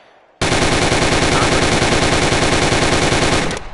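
Sustained automatic gunfire from a weapon fired at the hip in a VR video game, a loud rapid burst of evenly spaced shots lasting about three seconds before cutting off.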